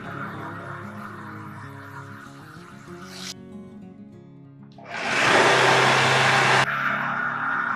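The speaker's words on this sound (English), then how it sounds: "we're going to cut out with the electric saw a small part" An electric saw cuts through a wood slice: a loud, steady whining buzz starts abruptly near the middle and holds for about two seconds before easing into a lower running hum, with quieter tonal background before it.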